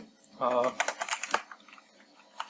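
A computer keyboard clatters in short bursts of quick clicks while C# code is written, with a voice speaking partly over the typing.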